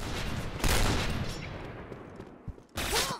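Rapid bursts of gunfire in a first-person shooter game, a loud volley up front and another near the end, with a quieter stretch between.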